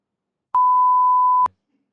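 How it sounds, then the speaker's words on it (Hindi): A single steady censorship bleep tone, close and loud, lasting about one second, cutting out a word in a Hindi conversation, with no speech heard over it. "बीप कर देना"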